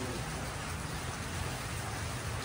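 Heavy typhoon rain pours steadily and loudly, a dense, unbroken wash of drops drumming close by with no pauses and no voices.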